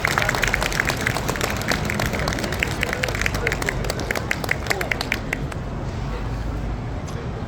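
A crowd at an outdoor Sewol ferry memorial event in Daejeon claps to welcome a youth activist onto the stage, steady applause mixed with crowd murmur and traffic before it tapers off.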